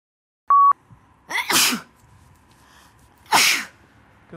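Two loud, close sneezes burst out about two seconds apart inside a camper van, following a short electronic beep, with quiet room tone between them.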